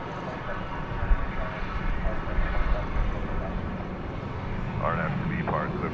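An Airbus A300 heavy jet takes off from runway 18 Left at DFW Airport, making a broad, steady engine roar at a distance. Someone talks over the noise throughout.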